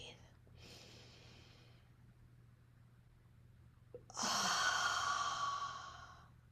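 Deep, slow breath drawn in and released during a guided gratitude meditation, a soft inhale early on and a fuller, louder exhale near the end against a low steady hum.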